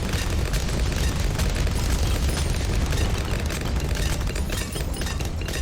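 Cluster bombs burst nonstop in the Bloons TD tower defense game on the Frozen Over map, a loud, dense barrage of booming blasts and rapid pops as bloons are destroyed, sustained without pause throughout with no speech.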